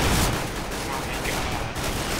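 Dense, continuous video game gunfire from CS:GO zombie escape mod on a Jurassic Park map, rapid overlapping automatic shots from several weapons, loud and sustained throughout.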